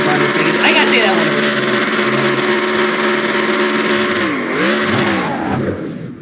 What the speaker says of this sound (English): doing the burnout